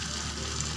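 Oil crackles and hisses steadily in a wok as onion, garlic and ginger fry close up. Dense, even sizzling with no pause.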